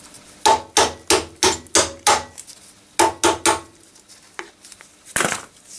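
Hammer blows driving the axle out of a 1954 Panhard Dyna Junior chassis, with the nut threaded on to protect the threads: six sharp metallic strikes in steady rhythm, a pause, three more, then two scattered hits, close and loud.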